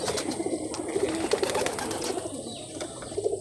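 Pigeons cooing softly at close range as they settle into their coop, low murmuring calls repeating over a faint background hiss with occasional light bird sounds.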